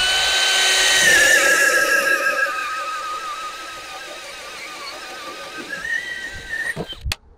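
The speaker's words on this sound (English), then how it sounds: "if I drop that down to speed 1 now, you should be able to see that drill bit now driving all the way through." A DeWalt XR cordless drill set to speed 1 whines as it drives a bit through a new hole. The motor tone is loud at first, slowly sags in pitch, then picks up again before a sharp clunk at the end.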